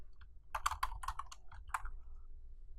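Typing on a computer keyboard, a quick burst of several crisp key clicks in an irregular rhythm, close and fairly quiet, with no talking.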